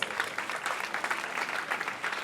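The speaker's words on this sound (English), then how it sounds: "A round of applause for that." Audience applause at a Children's Week event in Lagos: a steady, dense wash of many hands clapping, fairly faint and distant, with no talking over it.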